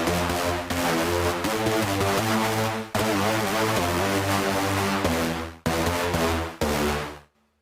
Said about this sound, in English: today we're going to make a sort of distorted horn